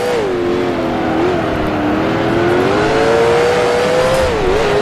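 A 1966 Can-Am race car at Mont Tremblant in Grand Prix Legends, engine loud and close, its pitch dipping and rising through downshifts and acceleration under continuous road noise.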